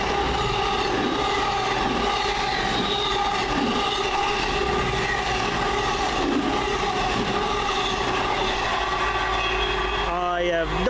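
Virgin Trains passenger service running through Adderley Park station, a steady rumbling roar with sustained tonal hum and track noise throughout, ending in a brief rising whine as it draws away; no talking.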